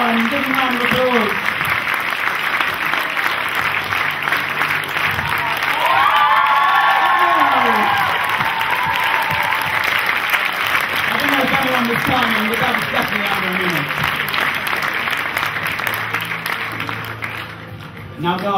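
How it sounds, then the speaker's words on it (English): A house concert crowd applauds and cheers as a volunteer dad is welcomed, with loud sustained clapping, whoops and children's shouts, and voices calling out over the top before it thins near the end. "Give him a round of applause."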